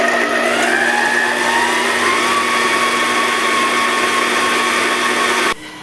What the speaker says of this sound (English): I'm going to lower the blades into the bowl and start the mixing.